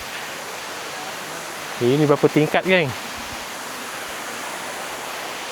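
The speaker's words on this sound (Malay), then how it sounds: "Kamu tengok berapa tingginya air terjun ni" A tall waterfall in Tapah, Perak, roars as a loud, steady broadband rush of falling water that fills the whole clip. Someone speaks briefly near the middle over the constant roar.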